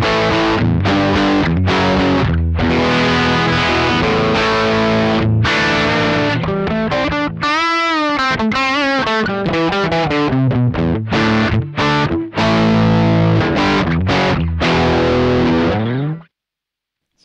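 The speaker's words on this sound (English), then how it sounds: "It's a very Marshall sounding distortion, isn't it?" An electric guitar runs through a Tech 21 Fly Rig 5 v2 pedal set to a Marshall-style distortion, playing loud, sustained, saturated chords and riffs with a brief bending passage midway, then cutting to silence at the end.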